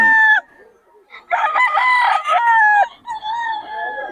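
A young stag rooster crows loudly and close by at a gamecock market in Bocaue, one long crow in the middle with shorter crowing and clucking from other birds before and after.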